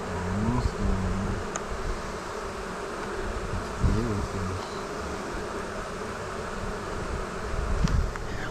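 Honeybees buzzing steadily and close during a first beehive inspection, a dense continuous hum with a few louder swells as bees pass near.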